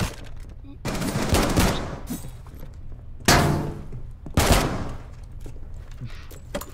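Flashbang grenades detonating during a first-person shooter match: three sharp, loud broadband bursts with decaying tails over a steady game-action bed, amid gunfire-like crackle.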